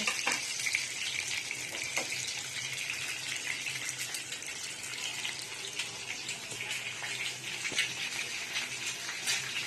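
Food fries in hot oil in a pan for an egg curry, giving a steady, dense hiss and sizzle that goes on without a break, fairly close, with no voices over it.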